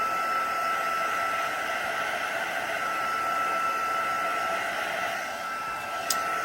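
A heat tool blows hot air onto the back of a stamped Lavinia card, giving a steady, loud, even whoosh that runs unbroken throughout.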